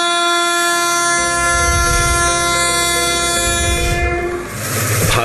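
An Indian Railways train passes close and loud, a sustained multi-tone horn blaring over the heavy rumble of the moving train for several seconds.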